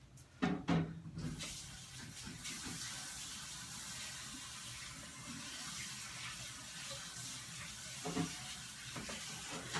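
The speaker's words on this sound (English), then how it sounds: "I'm going to put this in the sink again and rinse my hands off" Hands rinsed under a running kitchen sink tap make a steady close splash of flowing water that lasts throughout, with a few knocks and clatters at the start and again near the end.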